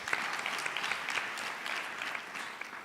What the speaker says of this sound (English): Let's give them another round of applause, guys.